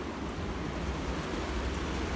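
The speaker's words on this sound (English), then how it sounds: "All that water is coming from the drain tile underneath this field." Water gushes from drain tile buried beneath a former corn field, making a steady, loud, broadband rushing roar that holds evenly throughout with no voices.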